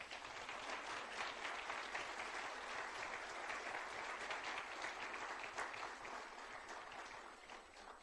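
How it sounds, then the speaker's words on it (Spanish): A church congregation applauds with steady, continuous clapping that sounds somewhat distant and stays even throughout before easing slightly at the end. "Le damos un aplauso al Señor por eso."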